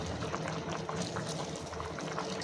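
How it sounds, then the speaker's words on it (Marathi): Steady bubbling of mixed dal and vegetable rice boiling in a pot, a continuous close churning with no voices. "किती मस्त उकळ यायला लागलेली आहे"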